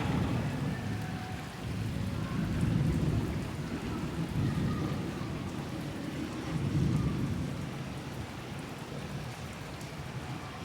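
A heavy thunderstorm with rain pours over Karachi from a western weather system. There is a dense, continuous roar of rainfall with deep thunder rumbling and swelling in the background, and no voices.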